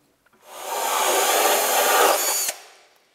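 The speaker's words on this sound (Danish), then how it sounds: "Nu har vi fået boret vores hul" A power drill bores a hole through click flooring in one steady, loud whirring run of about two seconds that starts and stops abruptly, with no talking.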